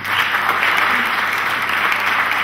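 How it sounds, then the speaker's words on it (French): An audience applauding at a youth leaders' program finale, a continuous dense patter of many hands clapping at steady loudness. "Je voudrais vous applaudir."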